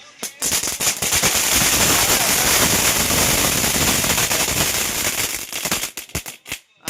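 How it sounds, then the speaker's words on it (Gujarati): A Diwali firecracker bursts into loud, rapid crackling that keeps popping densely for about five seconds. It starts and ends with scattered snaps and has no voices. "ક્રેકલિંગ નો સાઉન્ડ કેવો જોરદાર છે"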